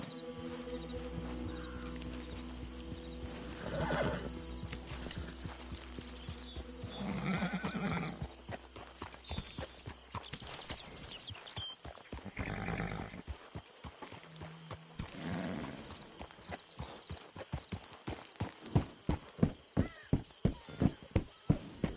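A horse in Red Dead Redemption 2 whinnies and snorts loudly several times, then hooves clop in a quickening rhythm toward the end, with game ambience behind.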